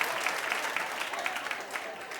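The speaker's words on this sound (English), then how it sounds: "Barbara, I don't know why they're clapping," Studio audience of The View clapping, a steady, close burst of many hands applauding with a faint crowd murmur underneath, continuous throughout.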